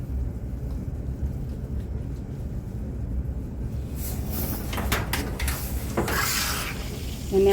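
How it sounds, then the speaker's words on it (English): A washcloth rubs tearless face wash into a dog's face and creases, a soft continuous scrubbing and rasping close up, growing louder and more vigorous toward the end. "I get it right on his little face and rub it in, get in the creases and the folds on his face."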